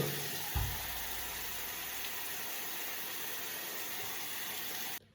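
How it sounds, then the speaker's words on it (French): Water pours steadily from a household tap at a measured 3.4 litres flow, a constant broadband hiss with a brief low thump near the start, running alone until it cuts off abruptly just before the end. "on a bien un robinet qui coule à 3 litres 4"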